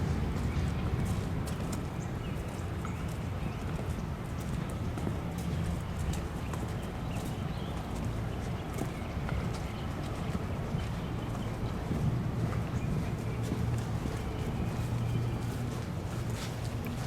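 Horses walk through a paddock where they are saddled, hooves clip-clopping in a steady, uneven patter over a constant outdoor background.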